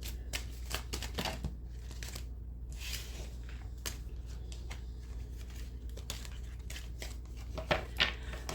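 Tarot cards shuffled by hand in a quiet room, giving repeated soft riffling and flicking bursts with a faint steady hum underneath.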